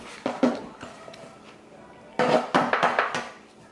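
Knife cutting meat in half on a board in a home kitchen, a few sharp knocks and scraping chops, near and clear, with a quicker cluster of cutting strokes in the second half.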